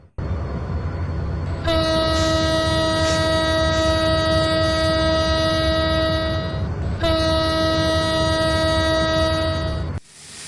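Class 66 diesel locomotive 6602 hauling the Kapotaksha Express sounds a loud, sustained horn blast lasting about five seconds, a short break, then a second long blast, all over steady engine rumble near at hand.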